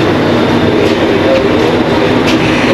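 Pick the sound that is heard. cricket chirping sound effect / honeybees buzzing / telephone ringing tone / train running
train running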